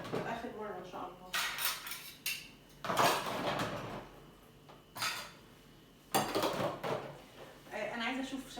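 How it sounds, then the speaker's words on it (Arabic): Dishes, pots and cutlery being washed at a kitchen sink produce loud bursts of clattering and clinking metal and crockery, separated by quieter stretches where someone talks. "اغسل المواعين"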